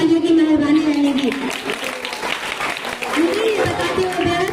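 An audience claps steadily beneath a sustained voice that carries over the applause throughout, at a Republic Day speech event in Kopargaon, India.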